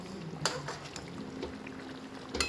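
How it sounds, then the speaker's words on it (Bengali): Bengali fish curry with coriander leaves simmers in a pot on the stove, giving a soft continuous bubbling with a few brief clinks and splashes. "দেখো আমি এক্ষুনি ধনেপাতার মাছ দিয়েছি, একটু ফুটবে, তারপর আমি নামিয়ে নেব।"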